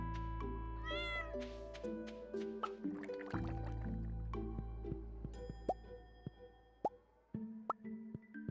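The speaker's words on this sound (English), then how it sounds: "There's the cat." A cat in the farming video game Stardew Valley gives a clear, close meow, followed by soft game sound effects such as plops and drips over quiet music.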